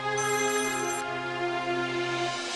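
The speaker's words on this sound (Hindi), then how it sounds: "किसका फोन है यार?" A telephone rings in a domestic scene from a Hindi TV serial, a steady electronic ring tone with layered harmonics that holds for a couple of seconds, loud and alone with no voices.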